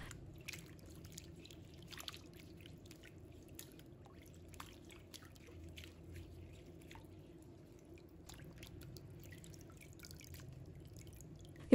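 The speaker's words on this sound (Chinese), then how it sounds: "用清水多清洗2遍。" Sweet potato leaves rinsed under running water, a soft continuous trickle with light drips and splashes, quiet and close.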